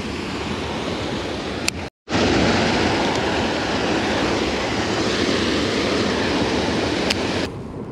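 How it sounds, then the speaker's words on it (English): Water pouring out of a pipe at a fishing spot, a steady, loud broadband rush that continues without a break except for one short dropout. "really good water flow coming out of this pipe over here"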